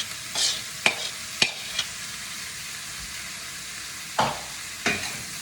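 Chicken, quinoa, edamame and couscous sizzle gently in a pan while being stirred, with several sharp scraping clicks of the utensil over a steady frying hiss.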